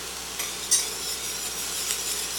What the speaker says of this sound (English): I'm going to take our cornmeal and I'm going to whisk this in till it is thickened